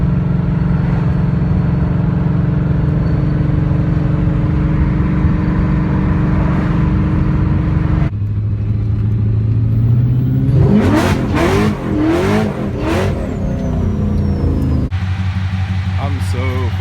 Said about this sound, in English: this is it, the last little drive in the 240.